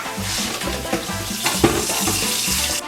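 Kitchen tap running steadily into a sink, a continuous close splash and hiss lasting throughout, with a brief clunk near the middle.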